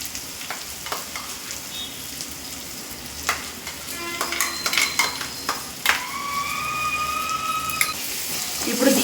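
Onions and masala paste fry steadily in a pan with a continuous crackling sizzle, joined by a few clinks of a utensil against the pan and some faint tonal whines.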